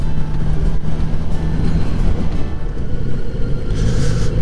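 A heavy rumbling passage of a train at a railroad crossing in Japan, heard from a motorcycle, steady and loud throughout, with a low droning hum and a brief hiss of higher noise near the end.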